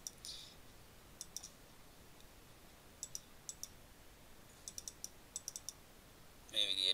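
Computer mouse clicks during a CorelDRAW graphics software session, a few single and rapid clustered taps spread across the stretch, faint and close over a quiet background hiss, with a louder burst of handling noise at the very end.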